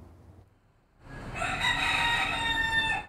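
A rooster crows in a park in Ybor City, Tampa, where dozens of feral roosters roam; after a quiet start, one long, loud cock-a-doodle-doo rises and holds steady to the end, close by and alone.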